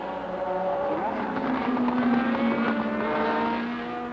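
Formula One race cars from 1978 scream by nose to tail, overlapping high engine whines rising and falling as they dice, loud and sustained, with a faint voice underneath.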